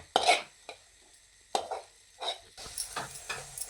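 A spoon scrapes and stirs a thick mawa modak mixture in a pan over a very low flame, giving a handful of quiet, irregular scraping strokes with a faint sizzle, close by and with no talking.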